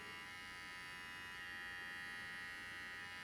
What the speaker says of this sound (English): This is rattling a little more right now because the battery is a little low